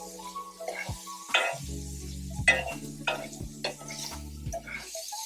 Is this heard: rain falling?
no